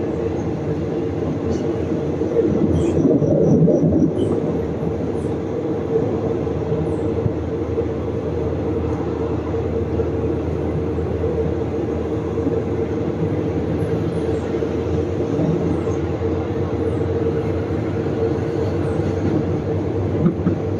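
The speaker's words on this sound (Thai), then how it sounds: "ต่อไปรถไฟก็จะวิ่งขึ้นบนนี้นะครับ" A train, service 351, runs onto a bridge near Ratchaburi station, rumbling steadily throughout, a continuous low heavy roar of wheels and carriages, loud and close, with a brief swell early on.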